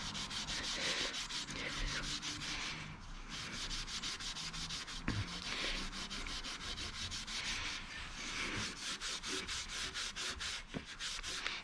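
Corrosion is sanded off a Subaru Impreza STI top-mount intercooler in steady rapid back-and-forth abrasive strokes, a close, rasping scrub that continues for several seconds with brief pauses and no talk.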